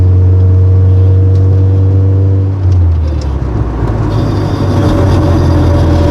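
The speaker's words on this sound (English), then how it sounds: "those rear brakes are dragging" Honda Civic with dragging rear brakes, heard from inside while driving: a steady low drone and hum with rising broadband road noise, continuous and fairly loud, no talking.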